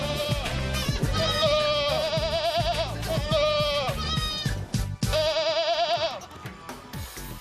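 Goats bleat repeatedly and loudly in a series of wavering, quavering calls over a busy farmyard background, with several overlapping animals heard up close.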